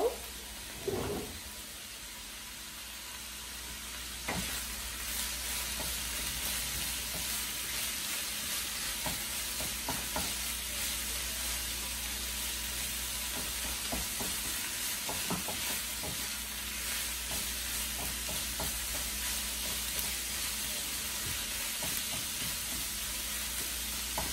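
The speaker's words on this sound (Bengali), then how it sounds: "আমি শাকটা একটু নেড়ে দেব।" Bottle gourd leaves fry in a pan with a continuous hiss and sizzle. Occasional knocks and scrapes from stirring come through, mostly early on, with no voices.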